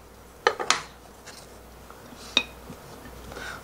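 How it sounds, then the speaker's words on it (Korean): A knife cuts decorative grooves into a carrot in a kitchen, giving a few sharp, quick scraping clicks close by with pauses between them. "꽃 모양을 만들고 싶으시면 홈을 좀 파서요, 당근을. 이렇게 홈을 파요."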